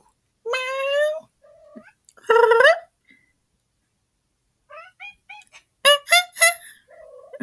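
A pet cat meowing and caterwauling indoors, several drawn-out, wavering cries and shorter chirping calls separated by silent gaps, fairly close and clear.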